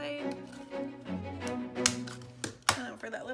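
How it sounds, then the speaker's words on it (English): A corner rounder punch trims the corners of paper for a handmade file folder ephemera holder, giving a few sharp, close snapping clicks over a steady musical background. "So for the corner, I just use my corner punch, my corner rounder."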